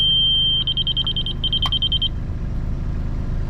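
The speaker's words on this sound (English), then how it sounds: "every time you hear that solid beep is when it hits it" A laser level receiver on a grade rod beeps at a retaining-wall build site, a steady tone breaking into rapid even pulses, pausing, then pulsing again over a low engine rumble.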